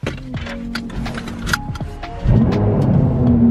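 A car engine cranks and catches, then settles into a steady, loud idle close by, with no voices over it.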